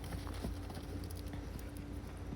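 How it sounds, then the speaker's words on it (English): Horses gallop to the finish of a barrel race, their hooves drumming in quick, rhythmic clip-clop beats over a loud, noisy arena background. "The bigger saddle offers more support, so she's more secure in the saddle as these horses gallop to the finish."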